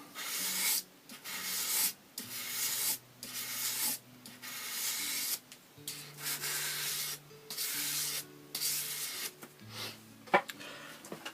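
A knife is sharpened on a 1000 grit whetstone in rhythmic rasping strokes, about a dozen close, quiet passes separated by short pauses.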